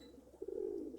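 Racing pigeons, older birds, in their loft: a single soft, low coo rises out of quiet background, close but faint and lasting under a second.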